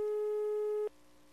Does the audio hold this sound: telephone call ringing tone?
yes